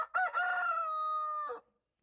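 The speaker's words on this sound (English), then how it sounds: "It's a real rooster call." A real rooster crows once, a clear, close cock-a-doodle-doo that opens with short rising notes, holds a long sustained tone, then drops off into silence.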